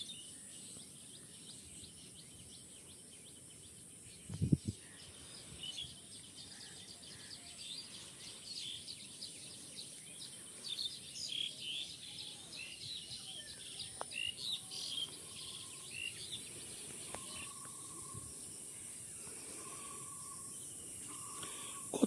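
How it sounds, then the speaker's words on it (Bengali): Birds chirp and call faintly and intermittently in a quiet rural countryside setting with palm trees, insects buzzing softly underneath and no one talking. "কত সুন্দর পাখির ডাক নিরিবিলি।"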